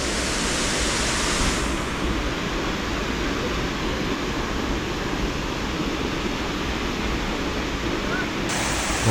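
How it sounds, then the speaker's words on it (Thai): A waterfall in southern Laos roars as a dense, constant broadband rush of falling water, loud and unbroken throughout. "เก็บภาพบรรยากาศน้ำตกให้ดูนะครับ"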